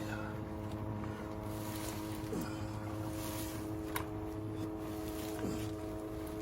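A Superior Pump 1/5 HP thermoplastic submersible utility pump runs continuously, a faint, steady mechanical hum with a constant tonal whine, heard close up with a little background noise and no talking.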